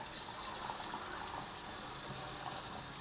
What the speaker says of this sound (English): I put mine on in the sink and I rinse them bad boys off